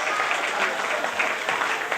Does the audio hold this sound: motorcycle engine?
no